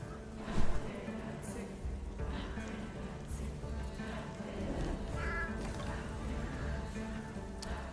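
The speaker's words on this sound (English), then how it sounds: "Analyze the cats in the sacred tree." Cats meow in the horror video game Sinking City 2, heard in a sacred tree scene as drawn-out cries over a steady bed of ambient game sound.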